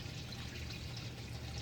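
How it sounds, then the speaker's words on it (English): Water moved by a pump through a PVC pipe and back into a reservoir in an automated greenhouse, making a continuous close trickling pour with a low steady hum beneath, no voices. "In here there is a pump that will pump the water upstream into the PVC pipe and then circulate down back into the main"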